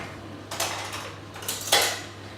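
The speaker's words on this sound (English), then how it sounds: "And I'm just going to mix that through until it melts." Butter is stirred into a warm milk mixture with a utensil in a bowl or pot, producing two bright scraping, clinking passes against the container over a steady low background hum.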